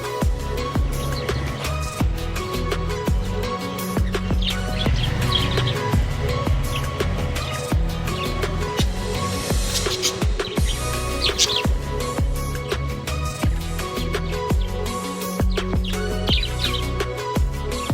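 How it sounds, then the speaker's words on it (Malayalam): Pet lovebirds chirping continuously in a dense, bright chorus of overlapping tweets, close and fairly loud, layered over a steady background hum. "പെട്ടെന്ന് ഇണങ്ങുന്ന ഒരു പക്ഷിയാണ് ലവ് ബേർഡ്സ്"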